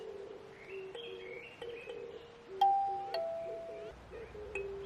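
Birds sing and chirp at a riverside campsite in Gurye, with several clear calls and trills, near and mid-distance, over quiet background and a few bright ringing notes.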